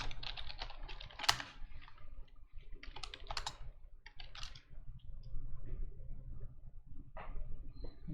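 Rapid typing on a computer keyboard while coding in JavaScript, close and moderately loud, in uneven bursts of clattering keystrokes with brief pauses between.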